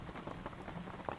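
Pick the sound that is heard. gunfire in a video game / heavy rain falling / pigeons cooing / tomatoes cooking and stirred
heavy rain falling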